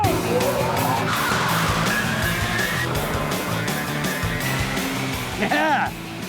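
Electric radio-controlled car on fat Formula 3 racing tyres launches in a drag race, a loud continuous whining motor and skidding tyre rush with a rising squeal near the end.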